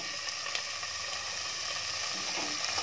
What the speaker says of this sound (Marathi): आता हा चांगला परत परतून घ्यायचा आहे। आता आपला कांदा परतून झालाय, त्यामध्ये 1 टोमॅटो चिरून टाकलाय।